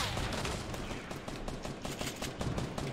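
Rapid, dense gunfire from a Fortnite match, a continuous burst of overlapping shots lasting several seconds, loud and close with no talk over it.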